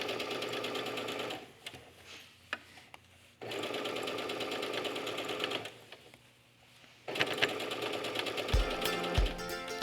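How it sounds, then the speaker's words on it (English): A sewing machine stitches an elastic casing on doll pajama pants. It runs close and steady in long bursts, with brief pauses where the fabric is adjusted. "Just going to fold that over as I go and sew a wide enough casing that I can slide my elastic through."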